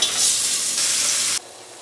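Oxtail pieces sizzle and crackle loudly in rendered fat in a pot, an intense frying hiss close up that drops off sharply to a quieter simmer about three quarters of the way through.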